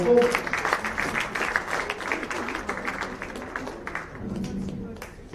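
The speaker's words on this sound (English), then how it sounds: "Please give her an applause." Audience applause at a corporate long service awards event, brisk crowd clapping that gradually thins and fades toward the end as a voice and room murmur take over.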